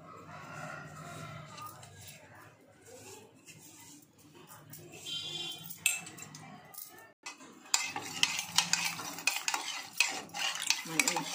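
Food is stirred and mixed in a pan, with a spoon or utensil scraping and clinking against the metal in an uneven rhythm, louder and busier toward the end, while a voice talks softly in the background.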